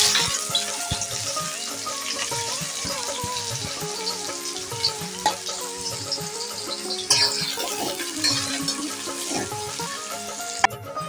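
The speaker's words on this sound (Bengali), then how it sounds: "তেল গরম হয়ে গেছে, এখন পেঁয়াজটা ভেজে নিচ্ছি।" Onions frying in hot mustard oil in a pan for mutton bhuna, a steady close sizzle with stirring scrapes and faint clinks running throughout, no talking.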